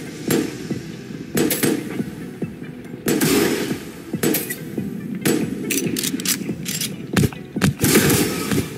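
Rapid gunfire in the video game Neon Knights, sharp repeated shots in irregular bursts over a steady electronic hum, loud and close throughout.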